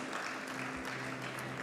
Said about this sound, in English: Round of applause as he makes his way to the stage